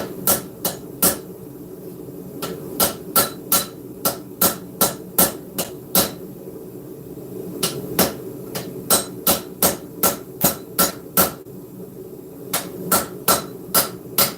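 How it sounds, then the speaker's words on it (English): Hot steel being forged into an integral bolster knife rings under close, loud hammer blows that land in quick rhythmic runs of several strikes, with brief pauses between bursts. "When you're hammering inside the belly like that, just be gentle with it."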